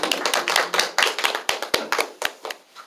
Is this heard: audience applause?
yes